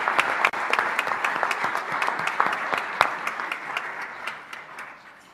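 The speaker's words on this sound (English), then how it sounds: "Let's give them another round of applause." Award winners at a university employee recognition ceremony receive a round of applause from the audience, a brisk burst of many hands clapping that holds steady for several seconds before tapering off and fading out.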